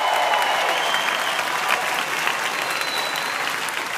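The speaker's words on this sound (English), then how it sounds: "Can everybody please give Andrew a great round of applause for that wonderful introduction?" An audience at a speech by President Obama breaks into sustained applause, dense and steady clapping from a large crowd filling the whole stretch.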